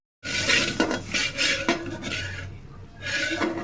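A metal spoon scrapes and scoops roasted almonds and cashews from a pan, giving a few close, bright clinks and rattles with short scraping strokes.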